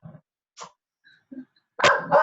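Puppies bark and yip in short, separated bursts indoors, soft at first and then two louder barks close together at the end.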